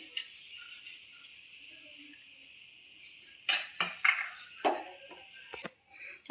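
Spoon stirring grated coconut and milk into a mango ladoo mixture in a pot, with soft scraping and a few sharp clinks of metal against the pan, close and alone.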